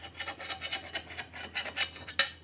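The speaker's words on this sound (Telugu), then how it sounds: "ఒక ప్లేట్లోకి తీసుకుని ముక్కలు కోసుకుందాం మనం." A knife cuts palm fruit rotti into pieces on a plate with a quick, rhythmic rasping scrape, soft and close, ending in a slightly sharper stroke.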